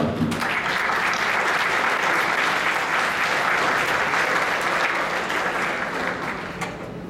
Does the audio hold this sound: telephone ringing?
no